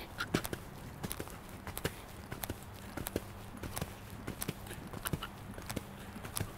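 A young, delicate horse walks with a rider aboard, its hooves clip-clopping in a steady, even rhythm close by, with occasional faint snorts and no talk.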